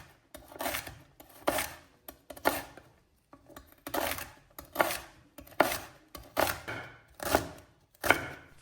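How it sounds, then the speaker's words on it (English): A knife chops celery stalks on a cutting board, eight or nine distinct bursts of crisp, close chopping strokes spaced about a second apart with brief pauses between, no talking. "Next, I'm chopping a few celery stalks for a touch of crunch."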